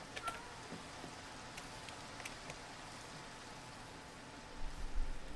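Steady soft rain falling in the overworld of a video game, a constant hiss with a few faint drip ticks and a slightly louder stretch near the end, no talk.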